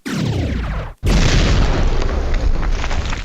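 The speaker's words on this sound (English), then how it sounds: "Whoa, huge nuke blast." A huge nuclear blast in a Unity 3D first-person shooter game: a massive, loud boom roars briefly, cuts out for an instant, then a second deep, sustained explosive rumble crashes in and continues to the end.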